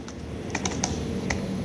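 Typing on a computer keyboard, a handful of crisp key clicks in an uneven rhythm, close and distinct over a steady low background hum.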